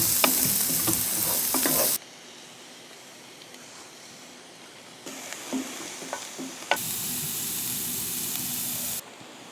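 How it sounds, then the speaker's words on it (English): Onions fry in a skillet on an outdoor cooktop at a campground, with loud steady sizzling and stirring scrapes that drop away briefly and then return in bursts. "Then we're going to cook some onions."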